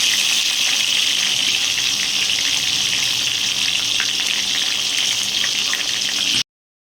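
Potatoes frying in a pan for a village-style aloo dum, a steady loud hiss and sizzle that carries on without a break and then cuts off abruptly.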